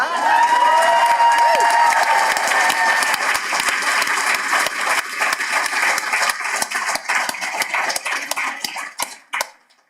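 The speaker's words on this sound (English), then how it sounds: "I would love the team to get the applause that they deserve." Steady applause from a large audience at an awards ceremony fills the room, dense clapping that thins out and fades toward the end.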